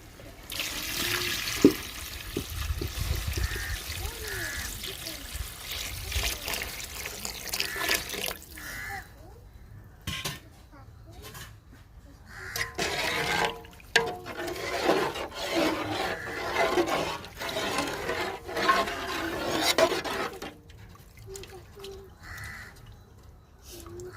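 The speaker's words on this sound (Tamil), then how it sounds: "வாங்க தேவையான அளவு தண்ணியை ஊற்றி நம்ம நல்லா கொதிக்க விட்டுக்கலாம்" Water runs and splashes from a tap into a cooking pot for chicken biryani, steady at first, then in broken bursts, while crows caw in the background.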